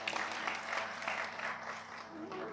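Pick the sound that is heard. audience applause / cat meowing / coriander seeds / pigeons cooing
audience applause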